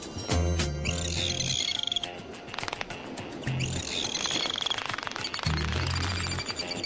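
Dolphin vocalizations: rising whistles and rapid clicking bursts repeating over a constant underwater hiss, fairly close.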